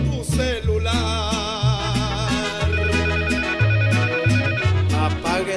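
Melodic mobile phone ringtone sounding inside a church, loud and continuous, with a busy repeating tune that plays for several seconds.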